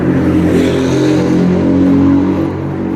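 A loud car rumbles past at close range on a city street near a taxi rank in Liverpool, its engine droning steadily and strongly throughout before easing slightly at the end.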